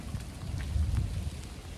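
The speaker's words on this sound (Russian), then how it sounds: "И смотрите, какой прям дождь." Rain falls on an icy city street in Odessa at night, making a steady, dense hiss with a low rumble underneath. It is close and continuous, with no voices.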